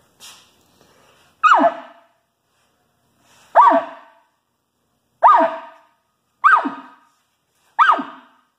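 Five short, harsh barking blasts, each a raspy descending squawk, spaced about a second apart with silence between, loud and close, made by a human voice imitating an elk.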